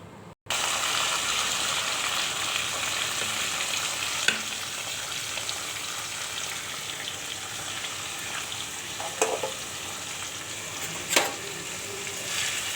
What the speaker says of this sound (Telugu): వీటిని ఇందులో వేసుకుందాం, అంటే తాలింపు పెట్టుకుందాం.